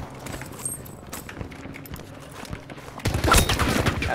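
Distant gunfire in Battlefield 5, scattered faint shots and clatter that swell into a louder, closer burst near the end.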